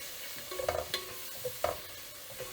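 Tomatoes and potato cooking in a pan for vegetable rice, with soft sizzling and a few scraping stirs of a spoon at close range, no talk.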